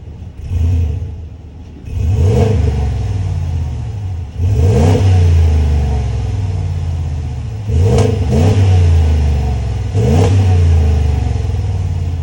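A 2021 Ram 1500 Laramie with the 5.7 liter Hemi V8 revs repeatedly, five loud close blips rising and falling over a steady idle rumble, no talk.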